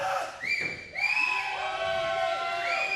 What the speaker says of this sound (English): Crowd now letting Jaxon know they support him tonight